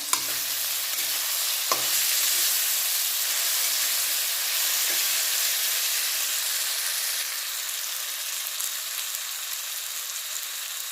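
Cut potatoes fry in hot oil with a steady, loud, hissing sizzle up close, a single knock of a spatula early on, then gradually softening toward the end.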